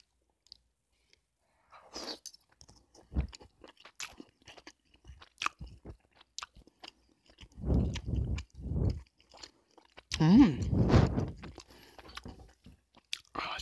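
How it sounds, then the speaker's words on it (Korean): Close, crisp bites and crunchy chewing come in short bursts between near silence, with two louder, longer chewing passages toward the end. "하나 더 먹어보도록 하겠습니다."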